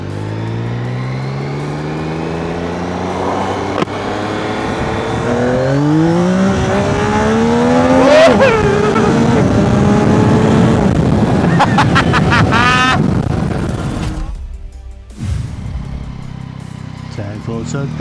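A 2025 Yamaha MT-09 motorcycle accelerates hard through several gears, the rising engine note dropping at each shift. The roar is loud and close, then falls away abruptly near the end.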